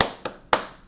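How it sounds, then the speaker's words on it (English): Three sharp hand claps, the first loudest, then two more spaced about a quarter second apart, close and dry with no talking. "Clap 3 times."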